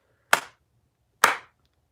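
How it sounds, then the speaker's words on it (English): Two sharp, isolated hand claps about a second apart, crisp and close, with silence between them and no voices. "Let's get some claps for Felix, dude."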